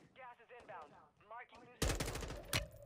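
Automatic gunfire from the video game Call of Duty: Warzone erupts in a loud rapid burst with a sharper shot near the end, following a few seconds of people talking.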